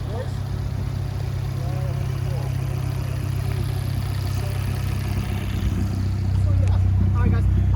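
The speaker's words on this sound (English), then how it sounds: "I love the way the Alfa sounds." An Alfa Romeo 4C engine and exhaust idle with a low, steady rumble that swells slightly near the end, while people talk over it.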